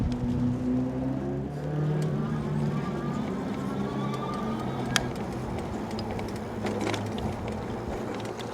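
An Eclio F02 electric fat-tire bike with front and rear suspension rolls down a bumpy gravel trail, giving a steady rumbling wash of tire and wind noise with faint rattles and one sharp knock midway.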